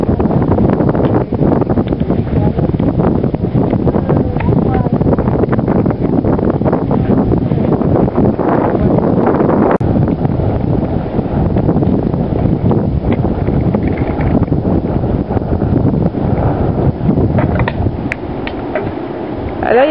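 Strong wind roars and buffets the microphone without a break on a beach on Lifou island, a low rumbling rush mixed with faint mechanical rattling throughout.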